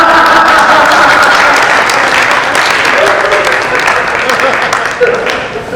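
Audience applause at a Haryanvi comedy kavi sammelan, loud dense clapping from a large crowd sustained throughout and tapering slightly near the end.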